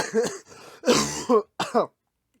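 A person coughs several times in short, harsh bursts, close and loud, then falls silent.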